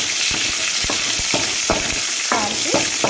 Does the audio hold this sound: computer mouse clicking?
no